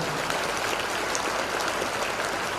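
Audience applause, a dense continuous clatter of many hands clapping at an even level.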